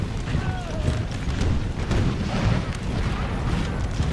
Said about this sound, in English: Artillery's firing away. Kingdom Legion being hammered by the artillery.